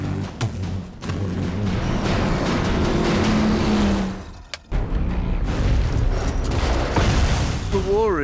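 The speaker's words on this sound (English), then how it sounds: "It's two V8 engines locked together into one shaft." The War Rig from Mad Max: Fury Road, with two V8 engines locked onto one shaft, roars loudly past, its note rising and falling as it speeds by, with a brief lull before more roaring and voices mixed in.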